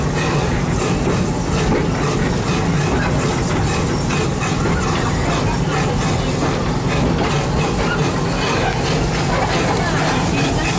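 Serengeti Express train rolling through the park at Busch Gardens, a steady loud rumble and clatter of rail cars with hissing, continuous for the whole stretch, with a narrator's voice faintly under it.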